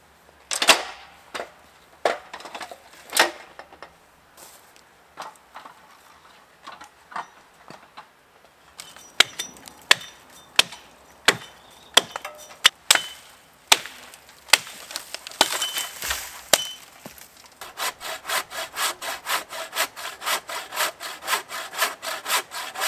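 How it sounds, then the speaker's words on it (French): Repeated rasping strokes of a hand saw cutting wood, interspersed with sharp hatchet chops, ending in a fast, steady sawing rhythm up close. "Si je fais ça en fait à la scie à main et à la hachette"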